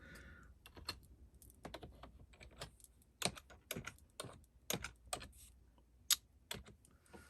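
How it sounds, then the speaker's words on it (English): Someone types a new name on a computer keyboard at an embroidery software setup, with irregular bursts of close key clicks and a few louder keystrokes near the end, no talking. "So you just type it in, hit enter, and then the new name pops in."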